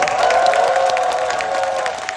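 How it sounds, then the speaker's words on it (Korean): Audience applause and cheering at a CGV Yongsan cinema stage greeting for the film Veteran 2, a brief burst of clapping with shouts layered over it, loud and close, with no speech. "뜨거운 박수와 함성으로 한번 안겨주십시오."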